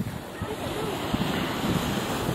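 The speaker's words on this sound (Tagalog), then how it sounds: "Medyo mahangin konti." Wind blows hard at Pagudpud beach, roaring across the microphone in a loud, continuous buffeting rush with surf churning beneath it.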